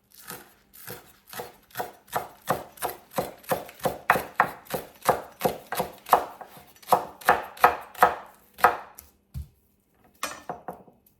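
Garden onions chopped on a cutting board with a knife: a fast, even run of crisp, close knocks, around twenty strokes, broken by a brief pause near the end before a few more cuts, no talking.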